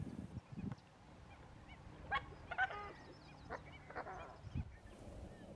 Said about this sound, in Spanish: Un ave siempre presente en Miramar es el coscoroba